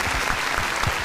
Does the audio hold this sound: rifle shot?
no